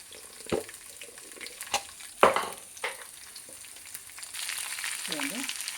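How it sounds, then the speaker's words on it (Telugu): Seasoning seeds and curry leaves fry in hot oil in a home kitchen, with sharp sizzling bursts and crackles that settle into a steady soft hiss. "అది పోపు గింజలు అవన్నీ కరివేపాకు వేసుకుంటున్నాను"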